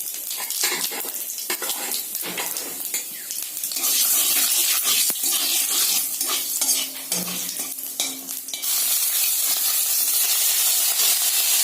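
Five-spice seeds hit hot oil in a kadai and sizzle loudly, a dense hiss with crackles and stirring scrapes, no talk.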